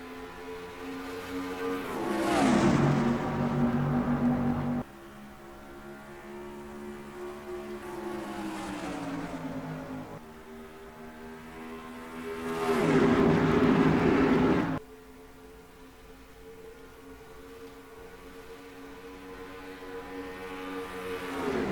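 Stock cars roaring around Michigan in the NASCAR Racing 2003 game during the Ally 400, engines droning steadily with loud passes swelling and cutting off as the pack sweeps by, with no voice present.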